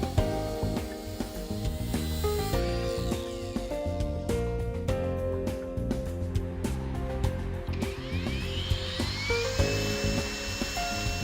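RAIDER R20 brushless 125mm angle grinder with electronic soft start and an aluminium alloy gearbox, disc spinning at 11,500 RPM, giving a continuous high whine with shifting tones and rising pitch sweeps, close and alone.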